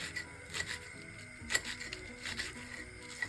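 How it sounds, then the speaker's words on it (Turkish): Light, irregular knife taps on a cutting board while chopping green onions, soft quick chops with one sharper knock partway through, close and quiet with no talking. "bu şimdi doğradığım yeşil soğan kıyma harcının içine karışacağı için çok küçük olması gerekli değil"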